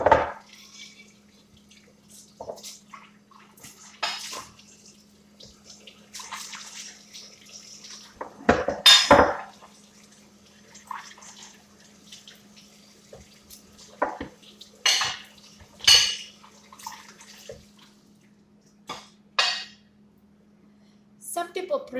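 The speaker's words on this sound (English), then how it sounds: "how best we can use the water when we are washing the plates" Plates washed under a kitchen tap, with intermittent splashes of running water and soft clinks of dishware in short bursts separated by quiet gaps, close and fairly faint.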